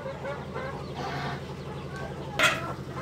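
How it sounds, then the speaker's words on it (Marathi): Japanese bantam and pure desi chicks cluck and cheep continuously nearby, with a steady busy chatter of small birds and one louder call near the end. "तर ही लहानशी पिल्ली आहेत आपली. जॅपनीज बँटेम आणि प्युअर देसी चिक्स आहेत ही."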